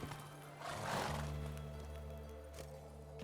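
Geralt's horse Roach in The Witcher 3: Wild Hunt gives a single short whinny and snort over the low drone of the game's ambience, close but fairly quiet, with no talking.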